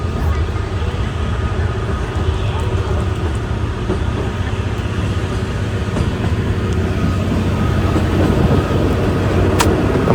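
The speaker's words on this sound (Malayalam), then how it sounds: "ഈ ട്രെയിൻ അത്യാവശ്യം പതുക്കെയാണ് പോകുന്നത് കേട്ടോ." The Kalka–Shimla toy train runs slowly on its mountain line, making a steady, close rumble of wheels and carriage noise that holds at an even level throughout.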